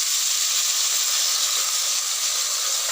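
Water poured into a hot pan of frying taro hisses and steams in a loud, continuous sizzle, close and alone.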